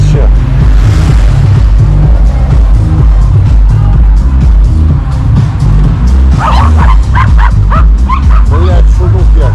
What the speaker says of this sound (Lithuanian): Blet, šunų kiek.